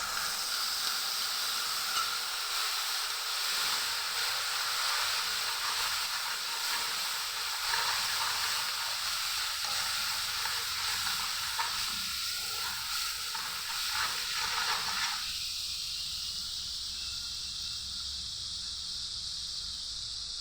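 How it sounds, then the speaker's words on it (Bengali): Spice paste and whisked sour yogurt frying in a pan for vegetable biryani, giving a steady, close sizzling hiss that carries on without talk and eases slightly toward the end. "এখন মশলাটাকে ভালো করে একটু ভেজে নেব।"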